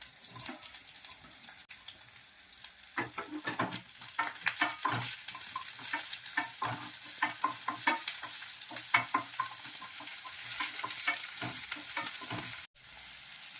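Cinnamon, cloves, peppercorns and sliced onion frying in a pan for broccoli soup, a busy crackling sizzle with repeated scraping and tapping of a spoon as the mix is stirred, no voices.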